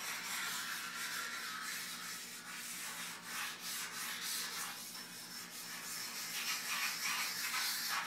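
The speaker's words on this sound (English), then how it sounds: "you just quickly lap the surface" A sharpening stone wetted with Varsol laps a metal surface in quick back-and-forth strokes, making a steady close-up gritty rubbing and scraping with no voices.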